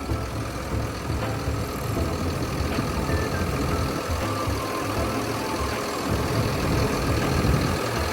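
Turbo diesel engine of a Caterpillar 320E-2 excavator running smoothly at a steady idle, heard close up as an even, continuous mechanical rumble.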